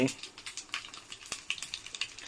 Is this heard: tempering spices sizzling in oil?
yes